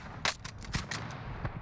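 Gunfire in the video game Call of Duty Warzone: several sharp shots crack in quick, uneven succession over a low background rumble, moderately loud and with no speech.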